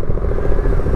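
Yamaha MT-07 motorcycle fitted with an SC Project full exhaust, held at a fast idle, giving a steady, close, continuous low rumble for a brief moment with no talking.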